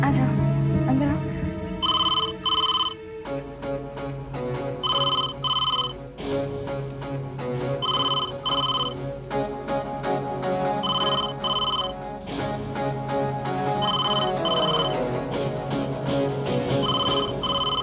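A telephone rings in repeated paired bursts, clear and steady over a domestic TV-drama scene, with talk and background music running throughout.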